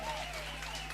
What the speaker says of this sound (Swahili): Makofi ya kilo